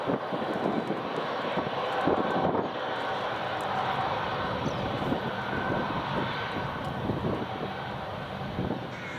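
United airliner taxiing at Edinburgh Airport: a steady, loud jet engine roar and whine continues throughout, broad and unbroken, heard from a plane-spotting position near the airfield.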